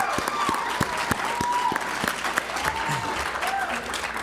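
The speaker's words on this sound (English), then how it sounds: "Yeah, let's actually do clap." Audience applause at a university athletics awards ceremony, steady dense clapping from a crowd with sharper individual claps standing out, sustained throughout with faint voices mixed in.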